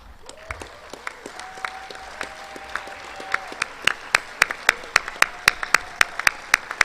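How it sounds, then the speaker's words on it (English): Audience at a National Softball Hall of Fame induction ceremony gives a round of applause, a soft bed of crowd clapping punctuated by a series of sharp, loud nearby hand claps that grow quicker and stronger, with some voices underneath. "please stand for a round of applause."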